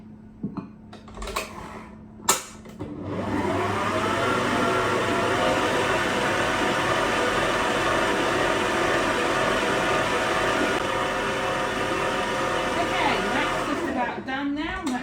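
An electric hand mixer beats Lotus Biscoff cupcake mixture on high speed, a loud steady motor whir running close and continuous after a few clinks of the bowl, ending with brief clatter.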